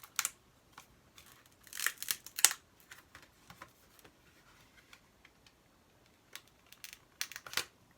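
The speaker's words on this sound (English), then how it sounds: "let me cut this open without cutting myself" Packaging for a Sony microphone is cut open with scissors or a blade, a series of sharp snips and crackles of plastic and cardboard close by, irregular and fairly quiet, with no one talking.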